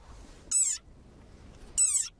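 A desert rain frog lets out two short, shrill squeaks, each about a quarter second long and roughly a second apart, close and loud against a near-silent background.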